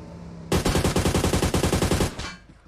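Automatic gunfire in a video game match with a 100-player lobby: one loud, rapid burst of about twenty evenly spaced shots lasting under two seconds, then a fading echo.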